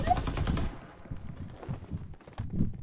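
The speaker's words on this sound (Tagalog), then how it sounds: "May namamaril." Rapid gunfire in the online shooter Farlight 84, a burst of loud automatic shots followed by scattered thuds and lighter shots through the rest of the moment, with no talk over it.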